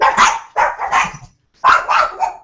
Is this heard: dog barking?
yes